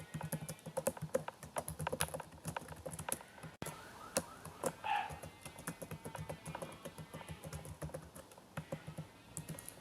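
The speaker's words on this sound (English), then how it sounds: "I will type in my information" Quiet, rapid clicking of keys on a computer keyboard while login details are entered, steady and close throughout with a brief pause partway.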